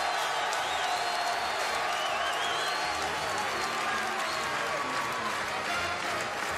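Basketball crowd at an Iowa State Cyclones game roaring and cheering with applause and whoops, a loud, dense, continuous wall of noise filling an arena at the halftime buzzer.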